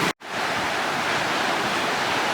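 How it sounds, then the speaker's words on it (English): Ocean surf washes steadily along the shore after Hurricane Dorian, a loud continuous rush of breaking waves with a brief gap at the start. "the waves are still rolling in"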